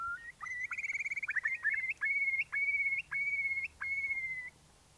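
A curlew at its nest repeats a series of clear, rising whistled calls, each held briefly with short gaps, ringing out alone against a quiet background.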